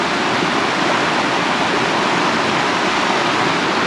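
A flooded river in the Konkan surges during heavy monsoon rain, giving a loud, continuous, close rushing roar of water that stays steady throughout with no voices.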